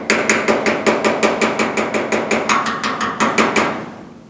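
A plastic PDR tool taps down a high spot on a GTO restomod fender: a steady series of about twenty light, sharp knocks at an even, quick rhythm, close and distinct, with no voices.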